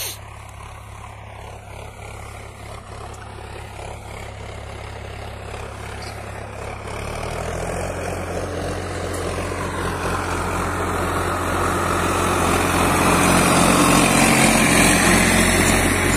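A Sonalika 50 tractor engine works a disc harrow in a field, a steady low diesel drone close by that grows louder and rougher over the span as the load builds, with no talk.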